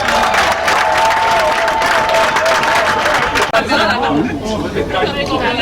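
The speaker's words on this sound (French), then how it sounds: "Applaudissez-vous s'il vous plaît" An audience applauds and cheers at a live event, dense clapping mixed with crowd chatter that thins toward the end, while a voice keeps speaking over it.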